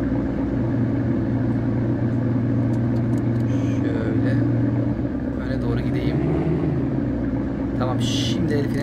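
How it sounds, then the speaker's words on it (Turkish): A car engine in the Real Car Parking mobile driving game runs with a steady, loud low rumble throughout, shifting slightly in tone midway, with faint game sounds on top. "Tekrar çalıştırayım bir arabayı."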